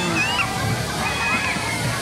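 River water sloshing and splashing steadily as people bathe at a raft spot during a festive Easter gathering, with voices talking over the continuous watery wash.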